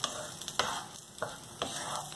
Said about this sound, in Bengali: মশলাটাকে আমি চাল আর পেঁয়াজের সঙ্গে ভেজে নেব